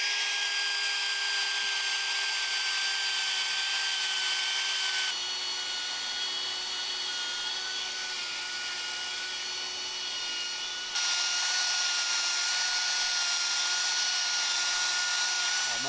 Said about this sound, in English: So we're going to die grind that